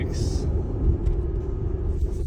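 Inside a car heading to a hotel in Nagoya early in the morning, a continuous low engine and road rumble runs steadily, with a brief higher hiss near the start.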